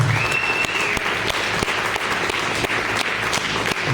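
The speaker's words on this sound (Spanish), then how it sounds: "Denle un aplauso al Señor." A church congregation applauds steadily and loudly for the whole stretch, a dense wash of clapping with no pause.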